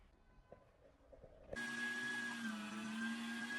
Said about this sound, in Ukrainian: Я зараз поріжу на шматки і перекручу фарш